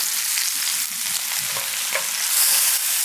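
A bottom round beef roast sizzles steadily in a hot pan after being flipped, a bright, loud continuous sear with faint crackles and small pops throughout.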